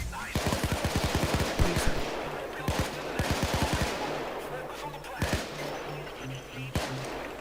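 Rapid automatic gunfire from police shootouts in the video game Payday 2, loud bursts of rattling shots with single cracks in between, over a steady game background hum.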